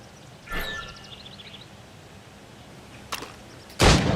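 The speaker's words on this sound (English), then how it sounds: "Shoot these targets." Gunshots fired at targets in Assassin's Creed Rogue: two sharp, separate cracks, the second louder, with a brief metallic chime between them over a quiet game background.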